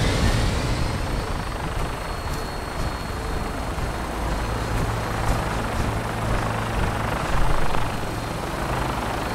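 A helicopter sets down in the game Fallout 4, its rotor a loud, dense, steady thrum with a heavy low rumble that holds throughout without a break.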